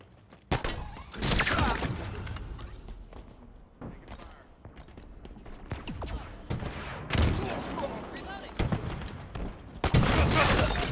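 Gunfire in a Halo Infinite multiplayer match, with repeated loud, close bursts of automatic shots and impacts scattered across the clip and brief pauses between volleys.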